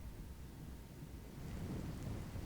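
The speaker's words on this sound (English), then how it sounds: "So, for this, we have the weather. We can change it to rainy." Simulated rain in the video game Virtual Ride Simulator 3 hisses as a continuous, even rumble with a low thundery undertone, growing slightly louder partway through.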